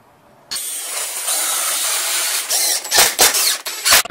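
A power drill drives screws into a ripped 2x4 support glued to a full-size DIY bunk bed frame, a close loud whirring run followed by several short bursts as the screw seats.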